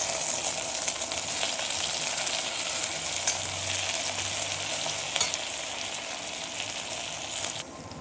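Steady sizzling of tomatoes sautéing in a hot pan, a continuous crackling hiss with a few sharper pops and occasional stirring, no talking.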